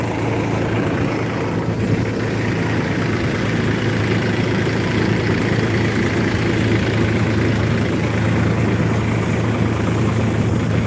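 A tractor engine running a thresher for cumin idles loudly and steadily, a constant low rumbling drone with no breaks from start to finish.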